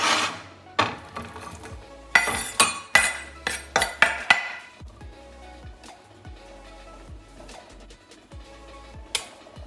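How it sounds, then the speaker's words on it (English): A spoon clinks and scrapes against a bowl while onions and prawns are mixed together, with a quick run of sharp metallic taps followed by softer, slower stirring. "So I'm just going to mix that around, get it all mixed up."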